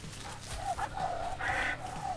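A guard dog on a property barks at an intruder in a few short, separate yelps and barks at mid distance, with faint background noise and no clear speech.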